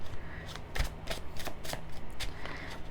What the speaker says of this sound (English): I'll just keep shuffling.